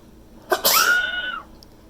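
A single sharp sneeze, close and fairly loud, with a quick burst followed by a brief tonal trailing sound, then quiet.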